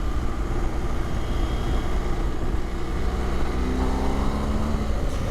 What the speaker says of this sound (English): I still love the stock sound of this thing. It is not loud, but it just has a very unique